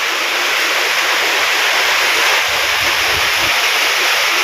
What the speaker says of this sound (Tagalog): Hangin at ulan.